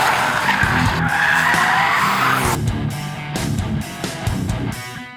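Hyundai i30N Fastback lapping a track, with tires squealing loudly for the first half before the engine note takes over, its shifting tone and revving carrying through the rest, no talk.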